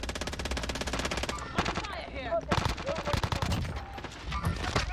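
Automatic gunfire fills a Call of Duty match on Rebirth with a Krig 6 in play, dense rapid bursts of machine-gun fire, loud and continuous, with voices speaking over it.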